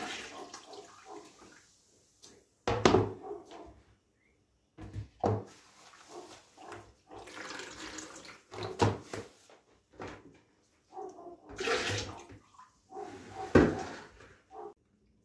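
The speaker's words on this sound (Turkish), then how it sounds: "Kalan suyumu da şöyle boşaltayım." Leftover whey water poured out during village cheese making, splashing in several short bursts separated by quiet pauses, close and moderately loud.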